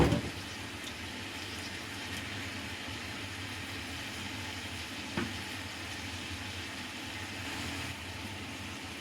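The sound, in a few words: green onions frying with beef short rib in pan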